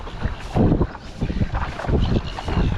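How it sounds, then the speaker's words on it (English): Gusty wind blows across the water while fishing for bream from a small boat, with loud low rumbling buffets hitting the microphone in uneven surges. "the wind's coming this way"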